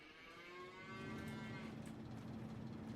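Several cows in the Farming Simulator 25 video game moo in long, drawn-out calls that swell and overlap, loud and close against a steady farm-ambience background.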